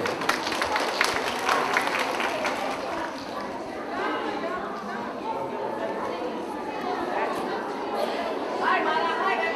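Crowd applause at a school end-of-year celebration in Ciochina, dense clapping mixed with chatter and murmuring voices, sustained at an even moderate level and swelling slightly near the end.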